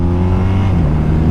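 A 2021 BMW R1250 RT motorcycle engine accelerates with a loud, steady rising drone heard up close under ride noise.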